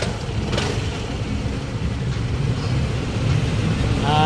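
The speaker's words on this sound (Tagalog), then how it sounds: "umandar na yung motor natin" An FKM Venture Ultimate 150 motorcycle engine runs after its faulty BCU was repaired, giving a steady, close, loud low rumble that holds through the whole stretch without talk.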